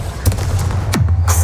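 A Confringo spell cast in Hogwarts Legacy: a sudden sharp blast near the middle, standing out against a steady low game rumble.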